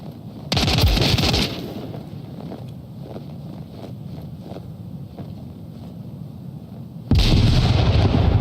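Two loud, heavy grenade blasts in a competitive first-person shooter match, one near the start and another at the end, each a booming roar over a steady rumble of in-game ambience.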